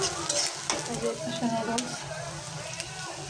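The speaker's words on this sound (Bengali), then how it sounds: "রান্না করতেছি পেঁয়াজ মরিচ দিয়ে দিচ্ছি তেলের মধ্যে" Onion and green chili fry in hot oil with a constant close sizzle, broken by scraping stirs from a spoon in the pan.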